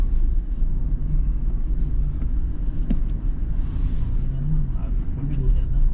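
A Toyota Fortuner drives along a road with steady low engine and tire rumble filling the cabin, braking somewhere along the way, while people talk over it.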